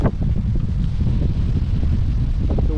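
Strong wind blows outdoors by a lake in the Boundary Waters, a steady, heavy roar buffeting close to the microphone for the whole stretch, with no talking.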